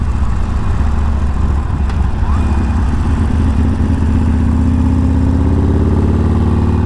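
A Harley Davidson 48 motorcycle engine running up close, a loud continuous low rumble with steady idle pulses that rise gently in pitch as it revs toward the end.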